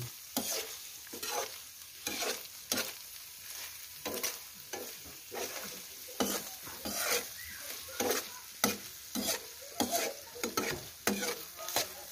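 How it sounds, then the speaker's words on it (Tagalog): Green black sea leech adobo simmers in coconut milk while a spoon stirs it, making a soft bubbling sizzle under repeated scraping strokes at a steady rhythm. The sound is fairly quiet and there is no talking. "yung kalabod haluin na natin"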